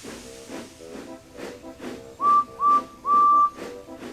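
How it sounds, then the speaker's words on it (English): Steam engine on Thomas & Friends puffing away in steady rhythmic chuffs, with three high whistle blasts, two short and one longer, over a hiss of steam. "Then the driver pulled the lever and Edward puffed away"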